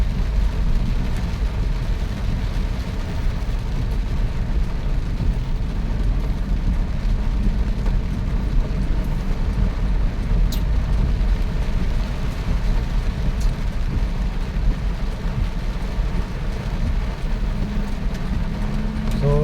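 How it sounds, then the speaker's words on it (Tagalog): Heavy rain drums steadily on a car driving along a road, a dense, loud, unbroken wash of rain and road noise mixed with engine rumble for the whole stretch, no voices. "wala pa rin tigil ang ulan"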